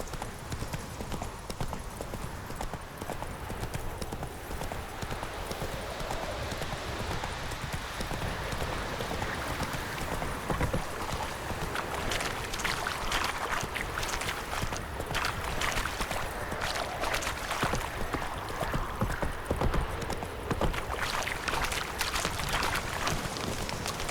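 The horse Roach from the video game The Witcher 3 gallops steadily with a rapid, continuous clip-clop of hooves over a wash of outdoor ambience, sustained for the whole stretch.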